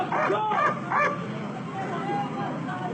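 A police dog at a chaotic arrest scene with a suspect barricaded in a car gives a few sharp, yelping barks early on, then whimpers faintly under background voices and crowd noise.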